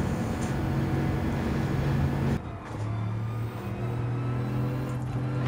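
A race car in Gran Turismo 7 at full throttle, a loud steady engine drone with low harmonic bands that shift in pitch partway through as the car gears up and keeps accelerating.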